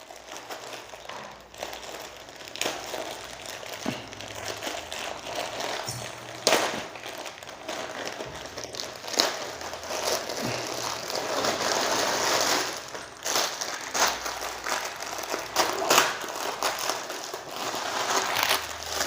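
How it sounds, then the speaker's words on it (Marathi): Crinkling and tearing of a plastic courier pouch holding a single girl's dress, close up, with irregular rustles, rips and crackles running throughout and no talking. "पहिला सिंगल ड्रेस फोडूया."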